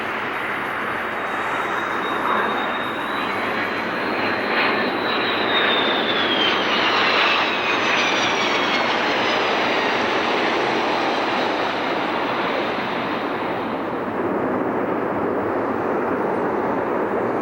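Boeing 727 trijet airliner of Sun Country Airlines, a loud continuous engine roar with a whining high tone that slides downward as the jet passes, heard up close for a long stretch.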